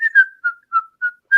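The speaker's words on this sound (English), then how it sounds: "I saw him whistling it." A person whistles a short tune up close, six clear, evenly spaced notes gently falling and rising in pitch, clean and solo with silence between them.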